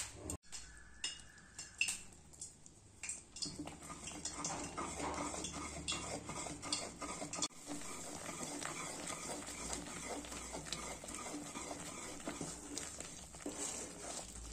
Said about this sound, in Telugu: వేడి చేసుకున్న ఆయిల్ అంతా పోసుకుంటూ కలుపుకుంటూ ఉడికించుకోవాలి.